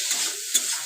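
Turmeric powder being stirred into food frying in a pan, a steady close sizzle with a brief scrape of the spoon partway through.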